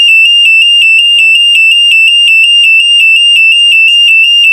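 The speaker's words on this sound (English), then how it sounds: "It's going to trigger the alarm" A door alarm siren set off by a door opening shrieks continuously at a piercing, steady pitch with a rapid pulsing warble, very loud and close, while a voice talks faintly beneath it.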